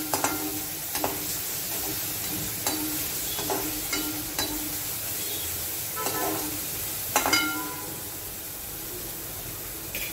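Vegetables with homemade black masala sizzle steadily in a pan while a spoon scrapes and stirs in irregular strokes, close and moderately quiet, with no talking.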